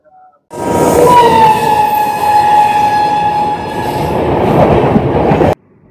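The Hool Express passenger train runs loud and close, its continuous rumble and wheel clatter carrying a long horn blast that sustains for several seconds before cutting off sharply.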